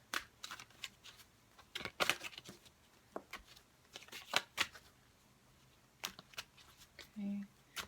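Tarot cards being shuffled and handled close up, soft irregular riffling and flicking bursts scattered through otherwise quiet surroundings, with a short faint tone near the end.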